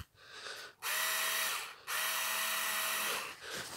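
A Hyundai cordless drill-driver whirs in two sustained bursts with a steady motor whine, starting and stopping abruptly, close and fairly loud.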